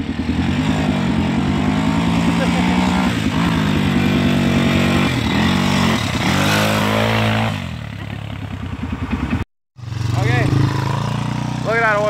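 A rough, smoking Yamaha motorcycle engine with worn piston rings revs hard and loud for several seconds, sputtering and rattling, then cuts out briefly before voices come in over a lighter idle.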